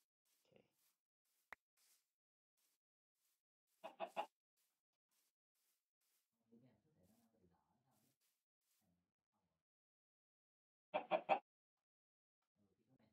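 Chickens in the Minecraft Better Than Wolves mod give sparse, quiet clucks in a few short bursts separated by long silent gaps.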